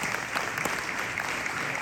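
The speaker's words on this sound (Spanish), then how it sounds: "Un aplauso cariñoso para ustedes" Applause from a congregation at a charismatic religious gathering, dense and continuous clapping at moderate loudness with no talking heard.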